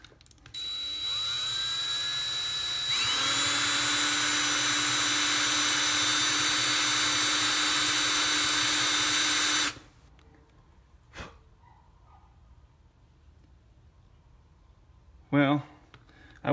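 A power drill fitted with dull bits runs loud and steady for about seven seconds, with a softer spin-up before it and a few clunks and a short burst afterward.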